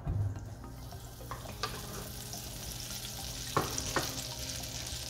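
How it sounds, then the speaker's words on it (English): Butter melting in a pan for a dal makhani tadka gives a quiet, steady low sizzle, joined by a few brief clinks and scrapes of a utensil nearby, with no talking. "So in a pan, we'll add butter."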